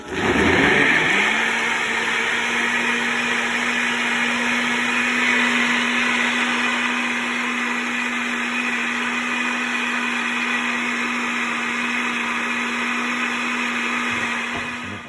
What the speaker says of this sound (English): And then we'll put it in the blender.